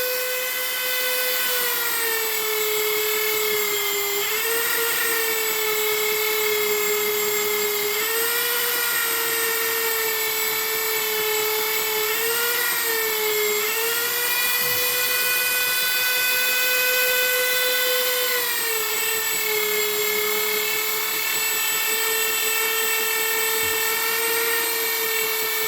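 A high-speed rotary power tool polishing an M16A1 trigger hammer, a continuous loud whine that dips and rises in pitch as the metal is pressed against it, sustained and close throughout.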